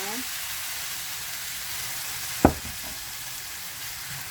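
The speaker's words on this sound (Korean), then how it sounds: "감자하고 고기하고 한번 살짝 볶아줍니다" Pork neck and potato pieces sizzle in a pot with a little added water, a steady close hiss of stir-frying broken by one sharp clank of a utensil partway through.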